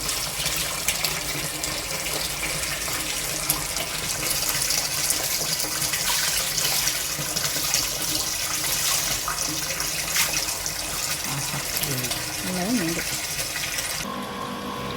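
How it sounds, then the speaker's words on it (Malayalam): A motor pumps water into a home fish-farming tank for murrel (snakehead) fish, giving a steady, full rush of gushing water that runs without a break and shifts slightly near the end. "മോട്ടർ അടിച്ചിട്ട് നമുക്ക് കുറച്ചും കൂടി വെള്ളം നമ്മുടെ ടാങ്കിൽ കൂട്ടി കൊടുക്കാം"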